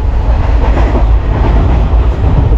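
Steady, loud rumble of the Bilaspur-Rewa Express passenger train rolling on the rails, heard from inside a carriage as a dense continuous roar with faint wheel clatter, no talking.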